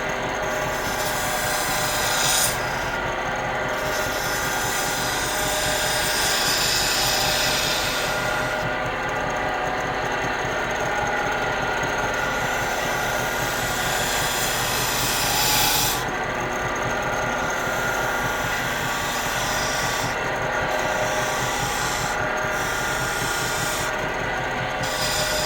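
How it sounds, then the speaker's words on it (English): Bowl gouge cutting black walnut on a lathe for a salt shaker, a steady close rasping, scraping drone that runs the whole time, with brief breaks and shifts in pitch as the tool moves across the spinning wood. "I like to use a 3/8 bowl gouge to do my beads."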